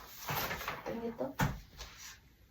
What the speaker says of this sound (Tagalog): Yung drawer. Sikip pa naman.